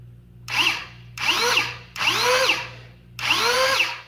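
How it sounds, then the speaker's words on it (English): A Nerf Rapidstrike blaster mounted inside a Centurion shell whirs in four loud bursts as its flywheel motors spin up and the pusher mechanism cycles, each burst rising and falling in pitch with short pauses between, close to the microphone. "Spin up the motors, and then you can see the pusher mech going through here."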